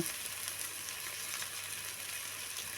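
Shredded cabbage frying in a pan with ginger-garlic paste for hotel-style prawn fried rice, giving a steady, dense sizzle that holds evenly throughout, close and fairly loud.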